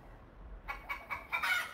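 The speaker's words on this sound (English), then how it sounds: "So when you hear the chicken" A chicken clucking sound marks the end of a fitness interval as an alarm, with a few loud, rhythmic clucks in quick succession after a brief quiet moment.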